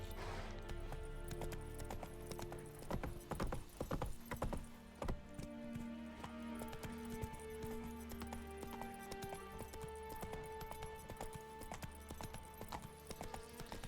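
In the Witcher 3 video game a horse gallops, its rapid hoofbeats loud and close over a layered music score, pounding hardest early on and then settling into a lighter rolling rhythm.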